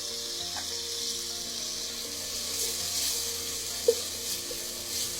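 Onions and garlic frying in a pan, a steady close sizzle and crackle with a few faint clinks, continuing alone without talk.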